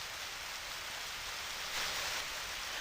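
Steady hiss of rain falling in the farming game Harvest Moon: Back to Nature, a constant even wash of ambient downpour with no talk.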